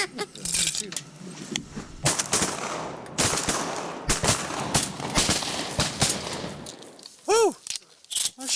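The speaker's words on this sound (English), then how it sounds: "I'm shooting a little better on that group" Shotgun blasts during a duck hunt, several sharp reports scattered through a busy outdoor scene with people talking over and between the shots, plus a duck call near the end.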